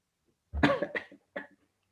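Two short, forced coughs from a nearby person, a longer harsh one followed by a brief second after a pause.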